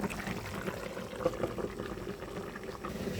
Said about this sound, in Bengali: দেখো এদিকে ফোড়ন দিয়ে দিচ্ছি, নিয়েছি 2টা তেজপাতা, মাঝখান থেকে টুকরো করে দিয়েছি, আর নিয়েছি জিরা, আর নিয়েছি রাঁধুনি